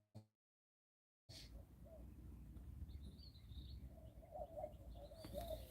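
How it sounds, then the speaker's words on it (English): Faint, intermittent bird chirps scattered over a steady outdoor background hum, a few calls standing out toward the end. "You can hear the birds actually."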